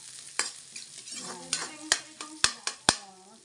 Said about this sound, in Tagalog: Igisa ko na natin ang sibuyas.